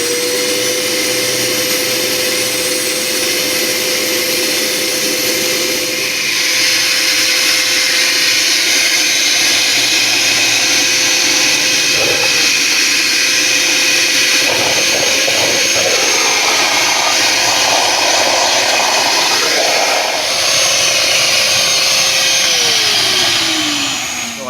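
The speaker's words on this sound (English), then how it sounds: "I'm gonna dip it in there, turn on the vacuum." A vacuum runs loudly and steadily while its air filter intake is dipped into a bucket of water, with a whining drone whose pitch shifts as the water is drawn in.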